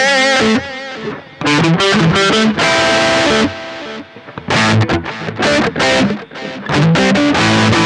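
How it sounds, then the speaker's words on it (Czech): Electric guitar run through an echo delay effect plays loud, busy phrases of notes and chords, with repeats trailing into the short gaps between bursts and a slightly distorted edge throughout. "Je dobrý si přidat echo,"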